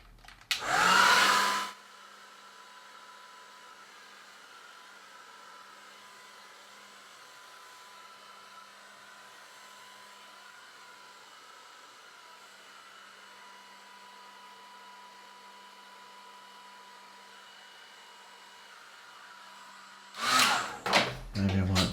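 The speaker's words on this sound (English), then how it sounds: "Now what I might do is just use this hairdryer a bit." A hairdryer blows over wet watercolour paint on a large abstract painting, a steady close whirring hum that runs almost the whole time, framed by brief louder handling noises at the start and end.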